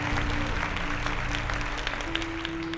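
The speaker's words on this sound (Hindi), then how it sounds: "तालियां जोरदार।" An audience at a Hindi Bible quiz competition applauds the children in a dense, continuous wash of clapping, with a steady low hum running underneath throughout.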